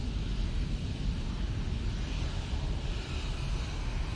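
A Ryanair airliner passing at Manchester Airport, heard as a loud, continuous broadband jet roar that stays steady and dense throughout, with no voices over it.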